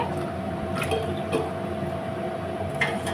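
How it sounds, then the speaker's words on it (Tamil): Water is poured into ragi milk in a tumbler, giving a steady, close splashing trickle with a faint hum behind it. "பால் எடுத்து அதே டம்ளரில் ரெண்டு டம்ளர் தண்ணி சேர்த்திக்கலாங்க"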